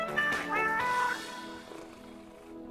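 A cat in a cat café gives several drawn-out meows close to the microphone, clear tonal cries in the first second or so, then fading to a quieter mew and soft room noise.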